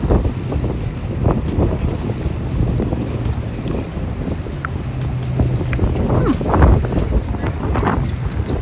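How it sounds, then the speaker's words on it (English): Strong wind buffets the microphone in constant low rumbling gusts, with some faint clattering and thumps mixed in. "it's so windy, guys."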